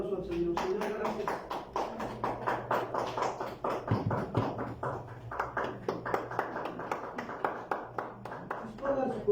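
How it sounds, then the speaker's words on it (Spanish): A church congregation claps together during an evening marriage service, a dense run of steady rhythmic hand claps lasting throughout, with voices and music faintly underneath. "Dale un fuerte aplauso al Señor"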